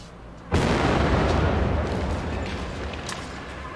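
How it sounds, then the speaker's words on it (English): A controlled explosion booms out suddenly in a single heavy blast, then a long rumbling roar trails off slowly with no voices. "Later they located it and conducted a controlled explosion."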